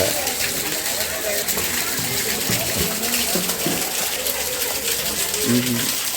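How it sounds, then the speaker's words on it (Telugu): Water pours steadily from the mouth of a stone Nandi statue at the Yaganti temple, a continuous splashing gush with faint voices and ambient noise around it. "దీంట్లోకి వచ్చి నీరు ఆ లోపల నుంచి అలాగే దాని లోపల పడి అక్కడి నుంచి ఈ నంది నోట్లోంచి పడుతున్నాయి బయటికి"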